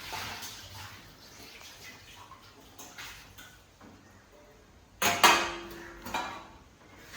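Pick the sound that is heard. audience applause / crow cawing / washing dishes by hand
washing dishes by hand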